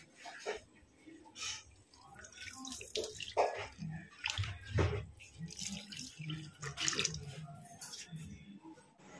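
Water pours and splashes onto wilted potted garden plants in a steady, uneven stream, with a voice speaking now and then over it.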